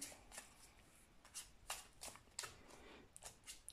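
Oracle cards being shuffled by hand, a run of crisp riffling and flicking bursts at close range, several quick sweeps with short pauses between, no talking.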